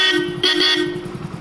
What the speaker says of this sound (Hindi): हॉर्न चेक करो भाई इसके